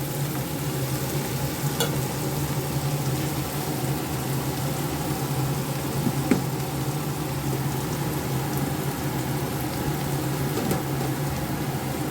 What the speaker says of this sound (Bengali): পেঁয়াজটা আর একটু ফ্রাই হয়ে যায়, একটু বাদামি কালার আসলে আমি আলুটা স্ম্যাশ করে এটাই অ্যাড করব।